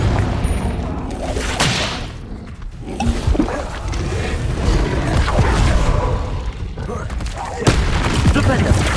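Confringo fire spells bursting in combat in the Hogwarts Legacy video game, loud booming blasts over continuous game music and effects, with a sharper burst near the end.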